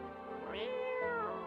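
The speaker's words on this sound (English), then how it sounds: "I'm gonna pet the cat." A cat being petted gives two drawn-out meows in quick succession, close and fairly quiet, over a low steady background hum.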